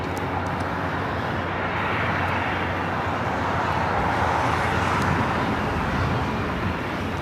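Jet airliner taking off from runway 25 right at Los Angeles International Airport, a steady, broad engine roar heard from a distance and swelling slightly midway, with traffic noise in the background.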